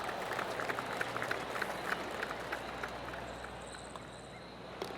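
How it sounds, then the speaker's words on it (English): Golf crowd in PGA Tour 2K25 gives a light, scattered patter of clapping at a steady moderate level, with a faint background tone and a brief sharper sound near the end. "That deserves a golf clap."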